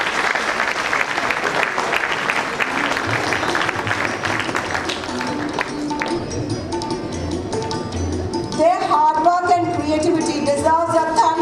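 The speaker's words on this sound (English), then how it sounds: "Creativity deserves a thunderous applause. Keep clapping to let them know how much we admire their talent." Audience applause after a Ramayana musical performance at a school event: steady crowd clapping throughout, with faint pings and music tones rising beneath it in the later part.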